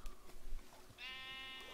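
Blocky-game sheep bleat once in a clear, steady, buzzy cry, close and fairly loud, after a stretch of quiet game ambience with no talking.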